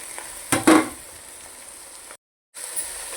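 Ridge gourd and tomato pieces being stirred in a pan for a curry, with a couple of brief scraping clatters early on over a steady faint hiss, then a short gap of silence before the soft sizzle returns.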